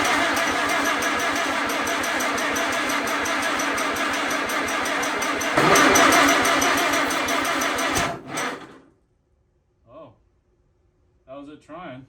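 An Allis Chalmers WC tractor engine cranks with a rapid rhythmic chug and then fires into a loud running roar. It cuts off abruptly, and brief voices follow in the quiet.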